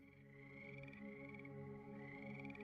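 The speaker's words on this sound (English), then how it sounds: "if you hear frogs" Frogs croak in a steady, overlapping chorus at night, a continuous pulsing drone of several voices at moderate distance, quiet overall and with no talking.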